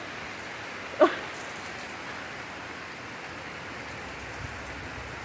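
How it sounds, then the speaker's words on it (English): Heavy thunderstorm rain pours steadily in Asheville as a big weather system moves in, a dense even hiss throughout with one brief sharp knock near the start and no talking. "It's a little more rain."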